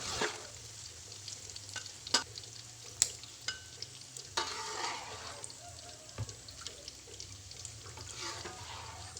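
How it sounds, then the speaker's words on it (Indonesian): Oil sizzles and crackles steadily as salted fish fries, with sharp clinks and scraping stirs of a utensil against the pan. "Saya menggoreng ikan asinnya tidak terlalu kering ya"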